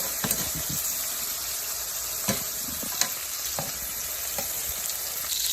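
Fish and shrimp frying in hot grease give a steady, loud sizzle throughout, with occasional sharp clinks and scrapes of a utensil against the pan.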